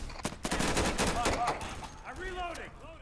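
Single-fire rifle shots in the tactical shooter Insurgency crack in a quick sharp series over the first second and a half, then give way to someone speaking as the gunfire stops.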